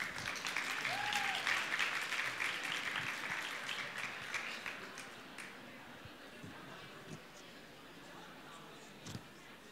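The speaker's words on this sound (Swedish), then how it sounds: "En applåd!" An audience at a talk about refugee detention bursts into sustained applause, loud and dense at first and gradually thinning out over about ten seconds, with no speech over it.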